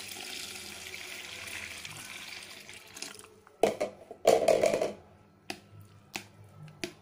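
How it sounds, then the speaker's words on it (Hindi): Water poured into whipped cream in a kitchen to separate out the butter, a soft running pour at first, then sharp splashing and sloshing bursts close by. "अब हम इसमें पानी डालेंगे तो मक्खन अलग हो जाएगा।"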